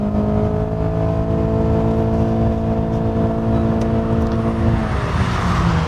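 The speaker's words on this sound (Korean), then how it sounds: "우선 차가 가속될 때의 느낌" Honda Accord 2.4 accelerating hard on a test drive, a steady rising engine drone with road and wind roar heard from inside the cabin, loud and continuous without talk.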